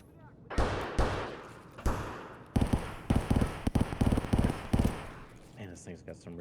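Rifle fire in Escape from Tarkov: a string of sharp, loud shots in rapid bursts, punchy and close, with a few louder reports standing out and brief game sounds between them.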